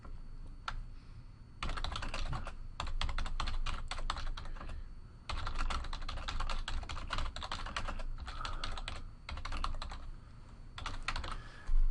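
Rapid keystrokes on a computer keyboard come in close, crisp bursts separated by short pauses, typing text into a form, with no voices over it.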